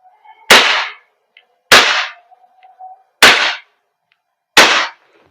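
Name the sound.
WE Glock 17 Gen 5 airsoft gas blowback pistol firing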